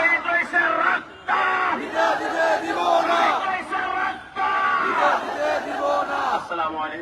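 A rally crowd at a press club gathering loudly chants a religious slogan in unison, the massed voices surging in repeated bursts with brief pauses between calls, close and dense throughout.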